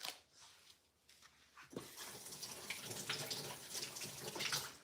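Water from a kitchen tap runs over a shrimp being rinsed free of seasoning in a home kitchen, a steady splashing rush that starts abruptly after a quiet moment and continues close and loud.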